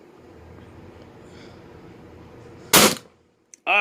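A MILSIG First Strike FSC paintball pistol with an upgraded HeatCore O-ring fires a single sharp, loud pop after a quiet stretch of low background hum, followed shortly by a faint click.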